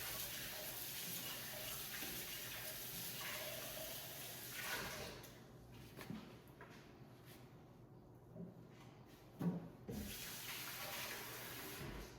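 Tap water runs steadily into a kitchen sink while a newly bought blender is rinsed out, the hiss dipping and shifting with a few soft knocks as the jug is moved under the stream.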